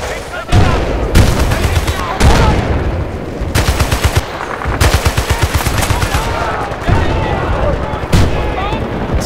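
Machine gun fire in Battlefield Bad Company 2 Vietnam: loud, close bursts of rapid automatic shots separated by short pauses, with heavier booms mixed in and people talking between and over the bursts.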